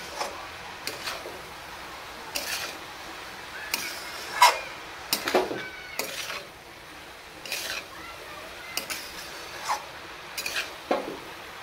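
Stirring a chili powder spice mixture in a pan, faint scraping and clinking taps at irregular intervals over a low background hiss, quiet and close with no talking.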